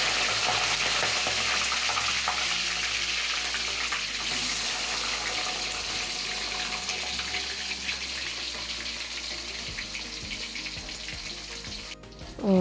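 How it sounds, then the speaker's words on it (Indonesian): Tofu seasoned with salt and flavoring fries in hot cooking oil, giving a steady, watery hiss and crackle that runs for several seconds before a brief clatter near the end, with no talking. "Setelah dirasa minyak goreng panas, masukkan tahu yang sudah diberi penyedap dan garam tadi, lalu masak tahu hingga matang"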